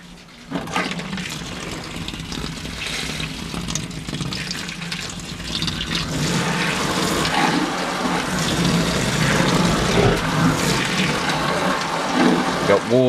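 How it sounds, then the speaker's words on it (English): Water is gently sprayed onto a Series I E-Type Jaguar to find a leak: a steady hissing, splashing spray begins abruptly and builds in loudness, with faint voices underneath. "Okay, we're now going to gently spray water."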